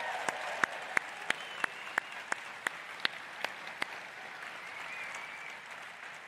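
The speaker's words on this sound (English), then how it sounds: "how about a round of applause?" An audience at a cycling charity gathering applauds in a broad steady wash of clapping, with a series of sharp, evenly spaced loud claps or taps near the front for the first few seconds.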